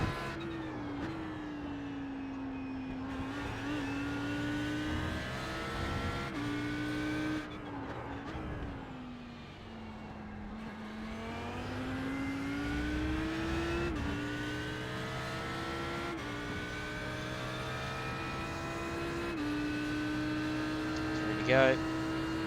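An Audi R8 LMS GT3 race car engine drones steadily from inside the car at Circuit of the Americas, its pitch rising and falling through gear changes and corners, with a driver talking over the noise.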